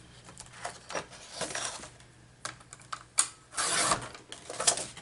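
A 2-inch paper hinge is cut for a journal, heard as close, crisp clicks and short scraping slides of a blade across paper, with a longer slicing stroke near the end and no voices.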